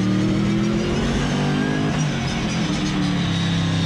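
A GT race car circling Silverstone, its engine heard loud and close from the cockpit as the driver brakes and shifts down to second gear, revs dropping through the gear change before steady drive resumes.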